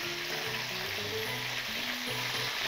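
Black pomfret fish fries in a pan, a steady close sizzle with faint bubbling crackle and low tonal hum underneath.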